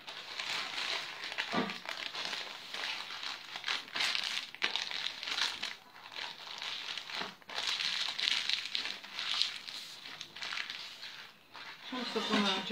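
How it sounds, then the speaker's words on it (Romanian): Baking paper crinkles and crumples as it is pulled tight around a meat roll stuffed with spinach and boiled eggs, a steady close rustle with brief pauses and a little talk near the end. "Am să o strâng bine cu hârtia."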